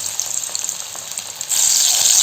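Onion kachori frying in hot oil, a steady bright sizzle that swells louder partway through, close and continuous with no voices.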